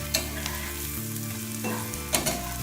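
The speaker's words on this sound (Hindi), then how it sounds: "यह है पनीर, पनीर हमारा फ्राई हो गया।" Paneer frying in oil in a pan for kadai paneer: a dense, close sizzle with a few stirring scrapes, steady throughout and without speech.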